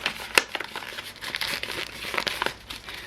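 Sheets of paper being handled and folded up close, giving crisp crinkling and rustling with a sharp crackle near the start and scattered softer crinkles after, with no talking.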